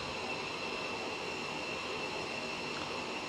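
A constant broadband hiss with an airy roar underneath holds steady throughout, like an F-15I cabin in flight in a video game, with no talking.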